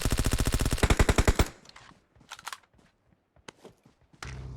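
Rapid bursts of automatic gunfire from PUBG Mobile, loud and close at first, then scattered single shots and short distant volleys over a quieter stretch.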